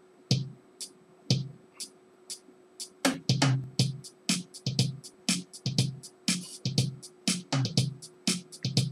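A Yamaha DD-5 digital drum machine plays a short intro and then launches into a steady preset rhythm, with sharp electronic kick, snare and cymbal hits repeating in a brisk, even groove, close and alone.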